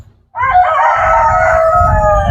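Three-month-old chickens ranging freely outdoors give a loud, sustained crow-like call with clucking, close by and steady over the whole stretch, with no talking.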